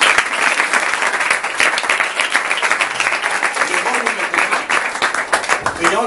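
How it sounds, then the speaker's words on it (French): A church congregation breaks into loud, brisk applause that stays steady for several seconds, with voices and a few shouts rising over the clapping. "Applaudissez alors pour vous-même."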